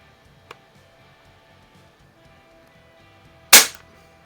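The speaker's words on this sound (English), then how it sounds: "I'm shooting at a 2-inch splatter burst across the garage" Umarex Ruger APX NXG pump-action .177 pellet rifle fired in a garage at a splatter target: one sharp, loud shot crack after near silence, preceded by a faint click.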